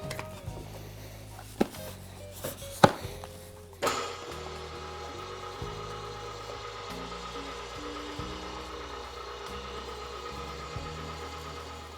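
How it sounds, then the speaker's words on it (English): Meat grinder working through a batch of venison and fat for Italian sausage, a steady mechanical drone with motor hum and irregular clunks and knocks from the feed, a few sharp thumps early on, continuous and close. "After the grinder making seriously quick work of 30 pounds of meat"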